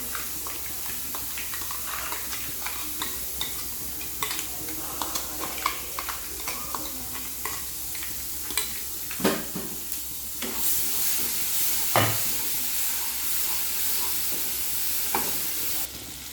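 Ground curry leaf paste fries in an oiled pan for karivepaku rice, a constant hissing sizzle with scattered spoon clinks and scrapes, the sizzle swelling louder in the final seconds.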